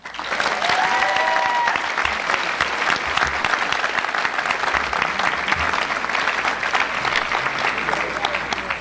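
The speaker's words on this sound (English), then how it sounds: "We also invite everyone here to give a warm round of applause for Dr. Joshua Levinson" A graduating high school class and audience at a commencement give a warm, steady round of applause, dense and even throughout, with faint voices mixed in early on.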